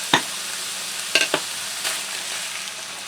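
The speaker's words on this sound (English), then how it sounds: "I'm just going to stir the sauce into the ground beef" A jar of tomato, basil and garlic pasta sauce is stirred into fried, drained ground beef, giving a few soft scraping strokes and wet stirring sounds over a faint steady sizzle.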